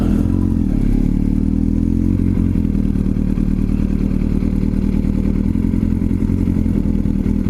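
Motorcycle slowing to a stop with the clutch pulled in and the front brake applied, a steady low engine rumble with some clatter running loud and continuous throughout, no talking.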